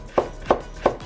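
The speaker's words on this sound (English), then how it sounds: "Slice carrots." Three evenly spaced knife strokes slicing carrots on a board for Japanese nikujaga beef stew, each a crisp close chop about a third of a second apart, with no talk.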